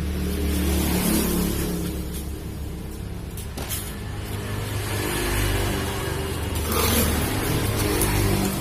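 A Honda CB150R motorcycle engine with a fault that makes it stumble at high throttle is revved in a test, a steady close mechanical drone rising and falling through several rev swells with no talk.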